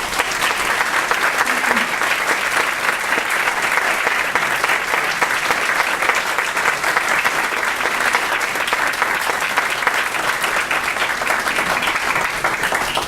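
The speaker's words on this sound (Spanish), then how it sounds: "a todos nuestros colaboradores brindemos un fuerte aplauso" Loud, sustained audience applause at a book presentation, a full roomful of people clapping steadily and evenly for over ten seconds.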